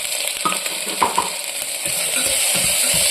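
Masala with tomato and ginger-garlic paste sautés in ghee in a pan for brinji rice, a steady close sizzle with occasional scraping stirs, no talk.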